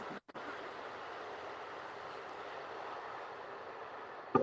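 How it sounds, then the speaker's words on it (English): A big train passing at a distance, a steady faint rumbling wash that holds evenly throughout after a brief dropout at the start, with a small knock near the end. "It's another train."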